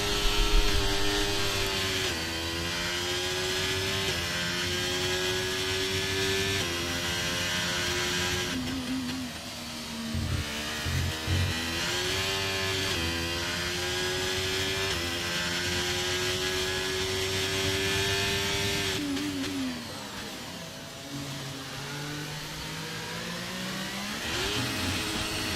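A Formula 1 racing car engine drones loud and steady through an out lap on a Canada circuit in a realistic F1 video game, its pitch climbing and dropping with upshifts and downshifts, with no voices over it.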